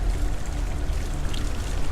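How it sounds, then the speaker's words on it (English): A waterfall in the video game Hellblade: Senua's Sacrifice pours steadily onto a wooden bridge, a dense continuous rush of falling water heard close and loud throughout, with no voices. "this piece of wood, while this waterfall's hitting it"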